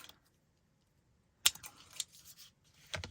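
Scissors cut through a sheet of recycled plastic or acetate, a sharp snip followed by a few smaller crisp snips after a quiet pause, nearby and without speech.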